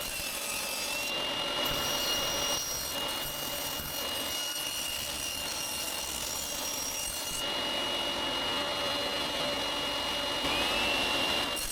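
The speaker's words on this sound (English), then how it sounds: "I set the saw blade height to 6 millimeters and cut off 5 millimeters on the inside of the pieces" Table saw with the blade set to 6 millimetres, cutting a recess into small wooden pieces for a napkin holder, giving a steady whining buzz with several passes, close and alone.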